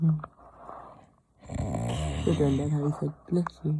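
A person imitates a father's loud snoring with harsh, nasal, rasping snorts, close and loud, repeated several times amid chatter and laughter from others nearby.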